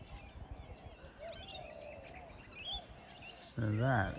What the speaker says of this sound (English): A lot of birds, which is always a good sign,